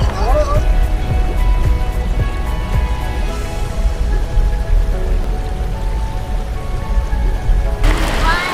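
Heavy rain falls during the year's first tropical storm, a constant hiss of drops on surfaces running throughout, with voices and shouts mixed in over the downpour.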